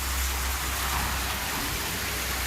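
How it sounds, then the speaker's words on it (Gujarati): Steady rain falling with running water, a dense, even hiss that stays constant and fairly close throughout the short stretch, with no voices. "અત્યારે વરસાદ ચાલુ, પાણી વહી રહ્યા છે."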